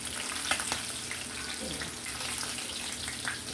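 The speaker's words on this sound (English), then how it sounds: "Do a little bit more frying" Food frying in a pan in a home kitchen, a steady close sizzle and crackle with occasional light clinks of a utensil.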